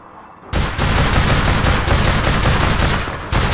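Sustained automatic gunfire in the video game APB Reloaded bursts in after a quiet half second, a loud, dense, continuous rattle of rapid shots that runs almost unbroken to the end, with a brief dip near the close.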